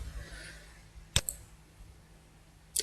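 Computer mouse clicks during geometry drawing software use: one crisp close click near the middle and another at the end, over a quiet hum with faint background noise.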